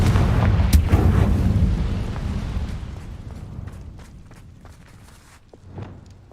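Spell-casting blasts from Hogwarts Legacy on PS5, a Confringo fire spell among them: a loud, booming burst up front with crackling impacts that trail off into quieter rumbles and a small final pop, no talk.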